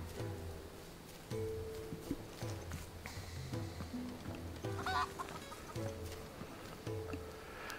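Chickens in a Final Fantasy XVI village cluck repeatedly nearby in short, irregular bursts over a soft ambient bed. No voices are heard.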